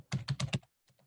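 Typing on a computer keyboard: four quick, close key presses in a steady rhythm, then two fainter taps after a short pause, with no voice.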